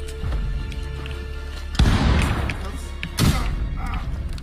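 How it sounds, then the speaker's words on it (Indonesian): Gunfire in a police shootout in the Ready or Not video game, with two loud, heavy shots about a second and a half apart over a steady game background. "Ini tembak-tembakan sama orang, Bondri."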